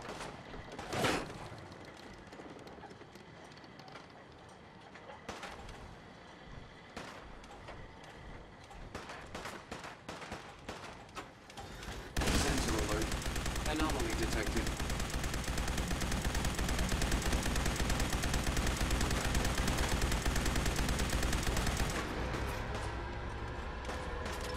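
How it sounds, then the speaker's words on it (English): Gunfire echoes in the Fallout 4 Far Harbor game, first as scattered sharp shots at a moderate distance, then as a dense, loud, sustained barrage that rattles on with little pause. "Someone's shooting."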